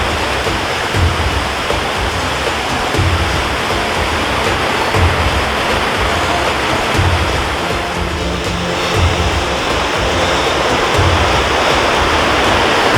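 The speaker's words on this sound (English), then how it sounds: "Hey, look at the waterfall." Waterfall along a hiking trail at Sandy Knoll near Kelowna, BC: a steady, full rushing roar of falling water, close and constant throughout with no voices over it.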